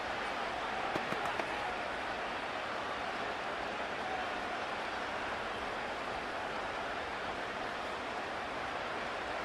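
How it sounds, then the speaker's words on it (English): A stadium crowd roars steadily in an American football game between the Steelers and Cowboys in Arlington, a dense, continuous wash of cheering that stays loud and even throughout. "This crowd turning up the decibel level."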